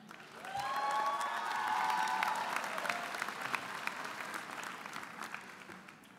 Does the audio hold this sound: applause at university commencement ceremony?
yes